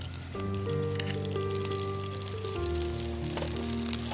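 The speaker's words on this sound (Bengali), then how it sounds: "এবারে আমি বাঁধাকপির ঠিক মাঝখানে একটা ডিম এইভাবে দিয়ে দেব।" Egg frying on low heat in the middle of cabbage in a pan, a steady soft sizzle throughout with a faint tonal hum underneath.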